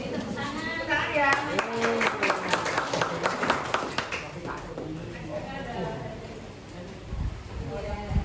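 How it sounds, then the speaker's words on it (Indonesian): Hands clap in a brisk run of sharp, evenly spaced claps for a few seconds, mixed with speech, and voices continue after the clapping stops. "Jadi tepuk tangan"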